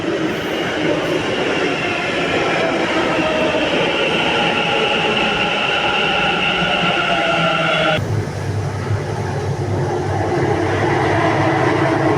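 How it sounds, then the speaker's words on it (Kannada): A train bound for Majestic in Bengaluru rumbles steadily into a station, its broad mechanical roar with a brief screech of wheels, and the sound shifts lower near the end. "ಮೆಜೆಸ್ಟಿಕ್ಕಿಗೆ ಹೋಗೋ ಟ್ರೈನ್ ಬಂತು"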